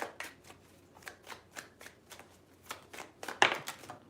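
Tarot cards shuffled by hand in quick riffling bursts, a steady series of crisp flutters ending with a louder riffle, close and clear with no talk.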